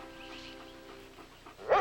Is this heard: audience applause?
no